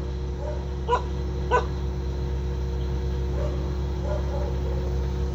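A small female dog that watches over a cemetery gives two short barks near the start, with faint whimpering yips later, over a steady low hum and outdoor background noise.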